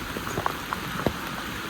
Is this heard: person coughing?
no